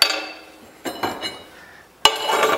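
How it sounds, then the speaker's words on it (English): A Uni-Hydro ironworker punches a hole in metal at its punch table, giving a sharp metallic clank, then a second hit about two seconds later, with a ringing tail after each. "I just punch a hole"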